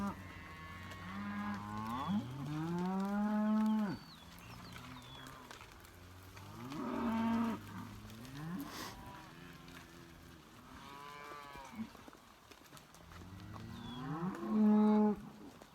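Cattle in a paddock give several long, loud moos in turn, with quieter pauses between the calls.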